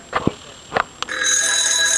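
A replica-style rotary telephone starts ringing after a few soft handling knocks, its bell sounding as a steady, sustained ring up close until the end.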